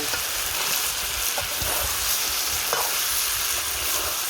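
Mutton is stirred and sautéed in a pan until browned, making a constant close sizzle with a few soft knocks and scrapes from the stirring.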